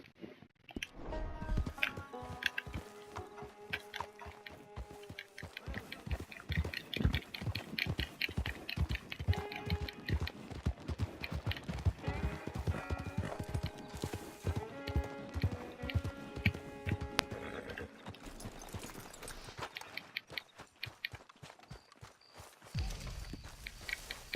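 Horse hooves clip-clopping in the video game Red Dead Redemption 2, a fast steady run of hoofbeats close up over a long stretch with faint music underneath.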